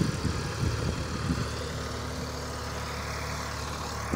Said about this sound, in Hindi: ट्रैक्टर आ रहा है देखते निकल रहा है